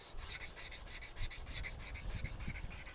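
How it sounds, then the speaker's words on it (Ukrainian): A Volvo FH13 truck wheel rim is rubbed down by hand with abrasive in quick, even back-and-forth strokes. The close, loud scratching keeps a steady rhythm of about five strokes a second, with no voices. "Батько вже дотирає диска, всередину ще не залазив"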